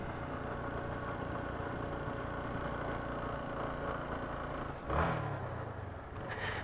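A motorcycle engine idling steadily at a hilltop lookout, a low continuous rumble at moderate distance with a brief louder surge near the end and no talk.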